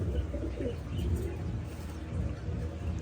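Pigeons coo in a low, soft, continuous murmur close by, with faint chirps mixed into a steady background.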